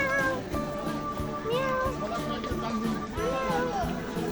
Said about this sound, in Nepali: हामीहरूले त एउटा बिरालो भेट्यौँ